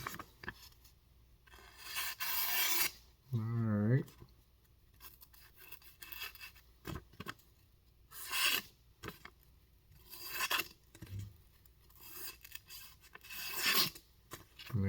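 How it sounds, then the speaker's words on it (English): An Emerson chisel-ground knife slices through paper in a series of short, rasping cuts with quiet pauses between them, close and fairly faint. "grab some paper, see if this is sharp."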